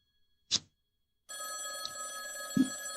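A payphone ringing at night: one short tap first, then a loud sustained electronic ring with a bright tonal buzz that starts partway in and continues steadily, with a brief knock near the end.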